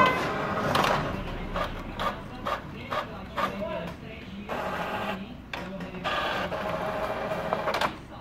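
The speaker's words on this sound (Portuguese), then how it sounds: "E vou colocar para imprimir. Ele vai começar a imprimir." An Epson L4160 printer prints a booklet, its mechanism clattering in bursts of repeated clicks and whirs with brief pauses between paper passes, heard up close.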